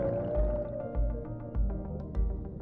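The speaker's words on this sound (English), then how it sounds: "Yeah, that's the sound of baby humpback whales." Baby humpback whale calls in the underwater game Dave the Diver, a long, moaning tonal cry that slowly slides in pitch, heard over a steady low rhythmic pulsing of game ambience with no talking.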